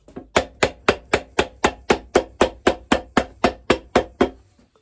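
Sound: hammer tapping shoe midsole

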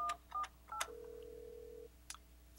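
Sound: dialing an extension on an Alcatel-Lucent 8068s desk phone

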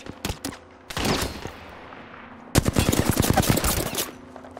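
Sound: gunfire in a video game

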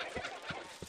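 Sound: chicken clucking in the video game Baldur's Gate

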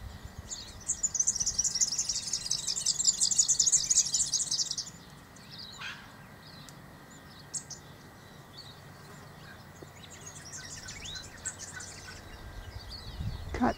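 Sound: birdsong in a garden

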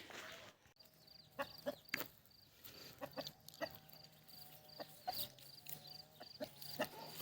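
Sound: chickens clucking

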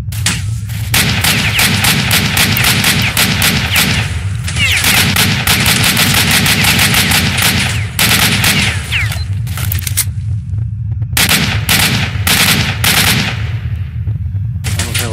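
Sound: AK rifle gunfire in the video game Stalker Shadow of Chernobyl

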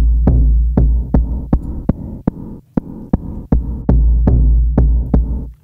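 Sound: VISCO drum machine groove with stereo fuzz and diffuser effects

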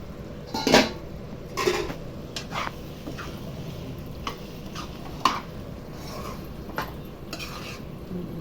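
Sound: lid put on cooking pot of prawn gongura curry

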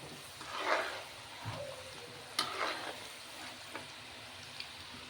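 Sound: tempering spices frying in hot oil

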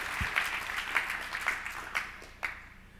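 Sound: audience applause at a conference talk

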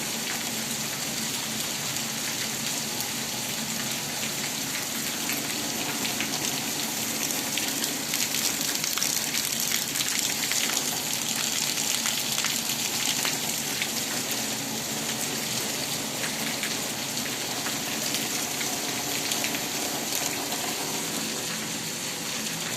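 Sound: torrential rain with flowing water

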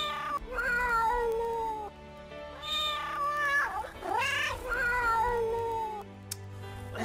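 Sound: cat meowing

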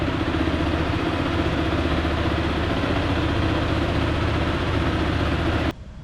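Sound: Zontes ZT 350 ADV T2 single-cylinder motorcycle idling

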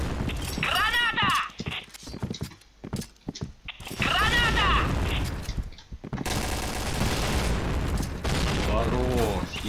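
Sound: grenade explosions and gunfire in a video game

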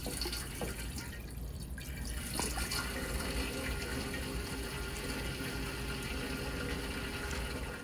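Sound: fuel being poured into a 1928 Ford Model A

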